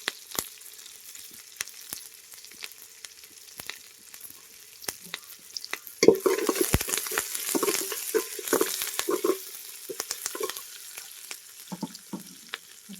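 Onions, then curry leaves, sauté in a pan, with sparse spatula taps at first before a louder burst of sizzling and stirring that continues in uneven crackling patches.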